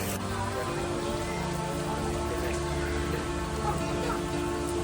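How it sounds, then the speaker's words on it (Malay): Steady rain falls continuously at an animal garden, a dense even patter with no breaks from start to finish. "Tengah hujan ni."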